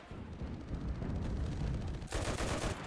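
M1919A6 machine gun in Enlisted fires a rapid, rattling burst of close shots, joined by a louder, denser volley in the last second, no voices.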